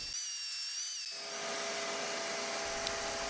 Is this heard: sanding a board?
yes